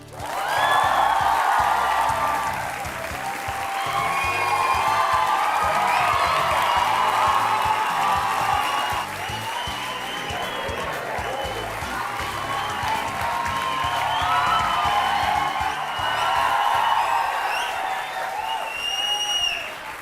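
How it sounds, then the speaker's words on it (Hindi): A television studio audience gives sustained loud applause with cheers and whoops as cricketer Rishabh Pant is welcomed on a courtroom-style talk show. The dense clapping and crowd roar run unbroken for about twenty seconds. "और ये तालियां बजते रहें"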